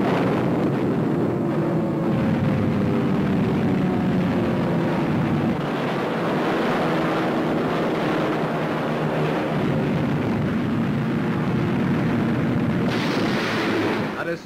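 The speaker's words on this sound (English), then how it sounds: "naval cameramen bring the first films of suicide planes in action, power diving at 600 miles an hour" A WWII newsreel soundtrack of kamikaze suicide planes power diving at Okinawa with near-miss explosions by a destroyer, a loud, continuous roar of engines and blasts with rumbling, distorted old film sound.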